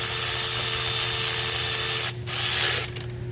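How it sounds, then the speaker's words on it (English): Hand ratchet working the bracket bolts on a 6.7 Ford diesel during a P0401 EGR repair, a steady close mechanical clicking that breaks off briefly near the end. "Back here, we're going to tighten these guys."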